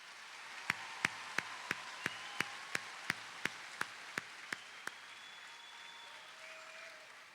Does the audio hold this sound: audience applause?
yes